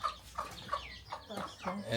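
On a poultry farm, chickens give several soft, irregular clucks close by over a quiet background, with faint murmuring mixed in.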